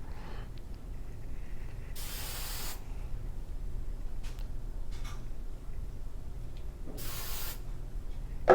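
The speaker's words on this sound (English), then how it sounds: "To top it off, hairspray, hairspray," Two distinct hissing bursts of hairspray sprayed onto hair for a dancer's styling, each lasting under a second and separated by quiet, close and clear with no talking.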